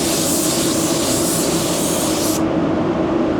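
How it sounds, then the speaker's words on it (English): A paint spray gun hisses in one continuous loud, close burst while blending paint onto a car panel, pushing overspray toward the front, the high hiss dropping away near the end as spraying eases. "I'm trying to focus that overspray towards the front"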